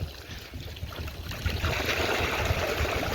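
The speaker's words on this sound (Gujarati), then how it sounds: "પાણી ચાલુ થઈ ગયું છે અમારું." Water starts flowing into an emptied cattle-trough tank by a shed, giving a faint rushing trickle that grows steadier and a little louder partway through.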